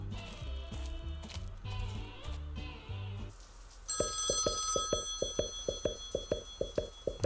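A synthesized game tune from The SpongeBob SquarePants Movie PC game plays, then a bright electronic telephone ring repeats in rapid, evenly spaced pulses, loud and close.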